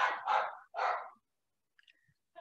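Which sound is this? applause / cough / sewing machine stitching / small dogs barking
small dogs barking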